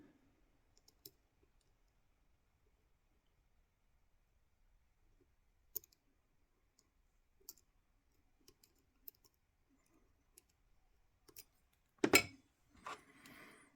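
Small metallic clicks as a lock pick sets pins in a Rotalock padlock with an MT5 core, sparse and faint against near silence, then a louder cluster of rattling clicks near the end.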